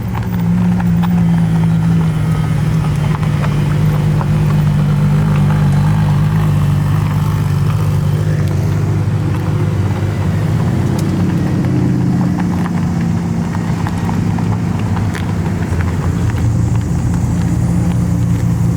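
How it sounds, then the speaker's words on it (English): A loud car engine rumbles and revs continuously, close by, with a heavy low drone that rises and falls over the whole stretch, at a car show as cars leave. "This car is so loud."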